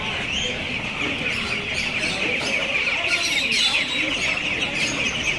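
Roosters and hens cluck at a busy outdoor market in Ponte de Lima, Portugal. The chatter of many birds runs on steadily under crowd noise and voices.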